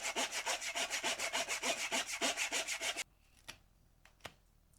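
Handsaw cutting through a small elder branch, about twenty quick rhythmic back-and-forth strokes close by, then the sawing stops and a few faint knocks and clicks follow.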